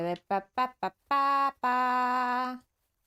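A cartoonish rooster in the video game Dinkum gives four quick clipped notes followed by two long drawn-out tonal calls, clean and close with nothing else behind it.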